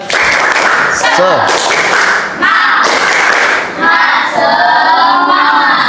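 A primary school class does a patterned rhythmic clap in unison, bursts of loud claps and thumps separated by short pauses, mixed with children chanting along in a classroom.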